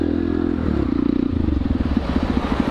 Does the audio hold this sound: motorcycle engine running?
yes